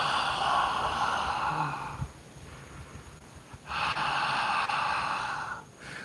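A voice imitates heavy, person-like breathing said to come from the treetops above, in two long loud breathy swells separated by a quieter pause, close and alone.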